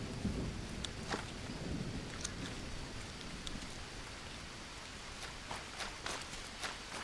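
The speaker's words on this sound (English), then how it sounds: "Is that rain? Really?" Steady rain in the jungle survival game Green Hell, a continuous hiss of falling water with scattered brief drips and taps, moderately loud and alone with no voices.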